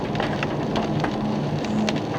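Heavy, steady downpour during a sudden cloudburst on National Route 2 between Shiwa and Hachihonmatsu in Higashihiroshima, Japan, heard from a moving vehicle: a dense, continuous hiss of rain drumming on the car with a constant low road rumble underneath, no voices.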